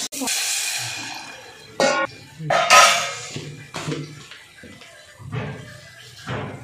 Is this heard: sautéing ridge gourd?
yes